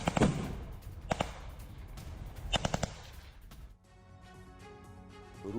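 Gunfire during fighting between Russian and Ukrainian forces, loud bursts of rapid automatic shots in clusters, then quieter distant popping as the scene shifts.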